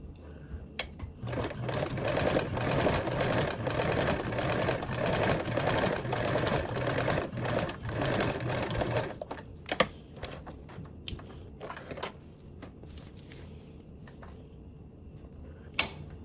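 A sewing machine stitches a toiletry bag in a steady, close run of rapid needle clatter, then slows into scattered clicks and short bursts toward the end.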